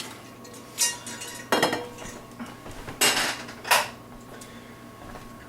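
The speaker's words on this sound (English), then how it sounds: "And then stir in that honey." A spoon stirs honey into garlic, lemon and honey tea, clinking against a ceramic mug several times in uneven strokes, with soft scraping between the sharp taps, close and alone.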